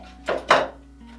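A pipe cleaner being snipped while making a Victorian grapevine wreath, heard as two quick, close cutting clicks in succession in a quiet room.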